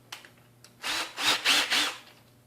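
Ryobi 18-volt One+ cordless drill driver boring into wood and tending to lock up near the end of the hole, heard as a few short whirring pulses grinding close by, with faint background between them.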